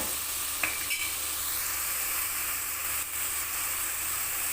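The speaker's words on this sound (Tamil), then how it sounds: "ஒரு அஞ்சு நிமிஷம் வதங்கட்டும் அப்படியே" Onions and aromatics sauté in oil in a pan with a steady, soft sizzle, a couple of brief stirring clinks early on, and no voices.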